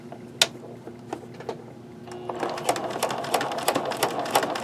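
A sewing machine stitches salvaged jeans pockets onto denim, starting with a few separate needle strikes and then running in a steady, fast mechanical rhythm up close, with no talk.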